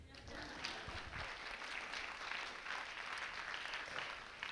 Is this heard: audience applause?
yes